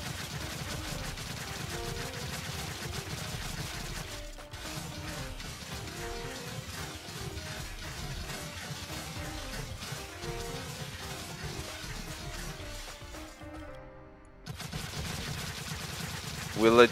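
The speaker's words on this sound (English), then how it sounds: "We're legit like a machine gun now." Rapid, continuous machine-gun-like firing from a weapon in the video game Trove, a dense steady stream of shots that drops out briefly near the end before resuming, with game music and effects mixed underneath.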